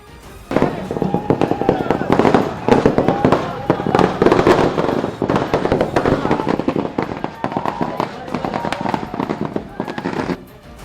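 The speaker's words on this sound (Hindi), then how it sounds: "पटाखों की आवाज से पूरा इलाका गूंज उठा।" Firecrackers burst in a dense, continuous barrage of sharp cracks and pops at a BJP workers' victory celebration in Pune, loud and close, with crowd voices mixed in beneath the explosions.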